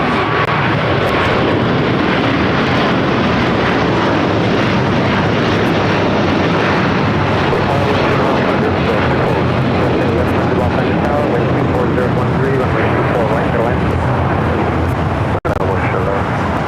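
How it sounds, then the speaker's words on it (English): A big Qantas-style widebody airliner takes off from runway 25 right at LAX, a loud, sustained jet engine roar filling the scene, with people talking over it. "we got the big Q and now taking off 25 right"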